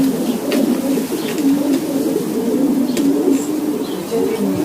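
Racing pigeons coo in a continuous, loud, close chorus of low burbling calls overlapping one another, with a few faint higher chirps in the background.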